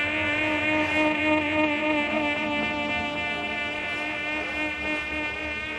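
Bees buzz around a hive in a dense, steady drone that holds at an even level throughout, close and continuous, with no voices.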